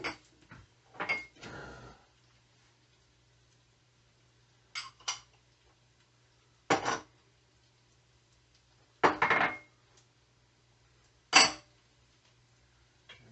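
Spices stirred in a pot for chicken mole, with chili powder, cumin, oregano and cinnamon: a few short scraping, clinking strokes of a utensil against the pot, spaced apart with quiet gaps between them, close and moderately loud.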